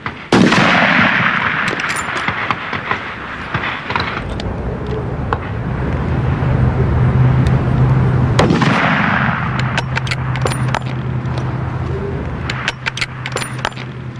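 A rifle fires at a target shooting range: a sharp, loud shot near the start, then a lower rumble and scattered small clicks and knocks outdoors.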